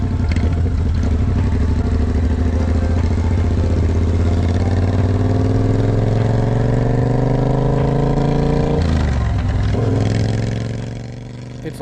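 A Triumph Bobber motorcycle engine pulls hard under throttle, loud and close, its pitch climbing steadily through the gears with a shift dip before easing off at the end.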